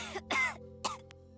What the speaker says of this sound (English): She chokes on her excitement and starts coughing.